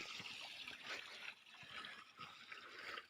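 Water pouring steadily from the outlet of a 750 watt solar-powered pump fed by three monocrystalline panels, a continuous close splashing rush with slight surges and no talk.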